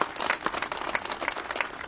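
Crowd at an outdoor rally in front of a broadcaster's building applauds, a continuous wash of clapping from many people at moderate distance, slightly uneven in level.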